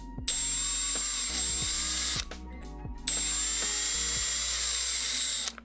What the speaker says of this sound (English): Don't drill into my hand.